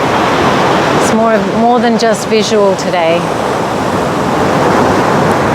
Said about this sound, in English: So we can actually hear the waves.